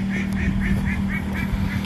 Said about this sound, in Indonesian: ada bunyi burung ya